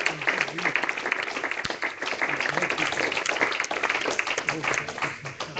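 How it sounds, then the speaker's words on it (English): A church congregation claps hands during an afternoon worship service, a dense continuous patter of many hands at steady rhythm, with voices speaking and calling out over the clapping. "Can we clap our hands this afternoon?"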